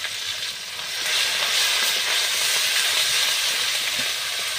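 Ground spices fry in oil in a pan with a splash of water, giving a steady, close, even hiss and sizzle that rises slightly after the first second and holds with no voices.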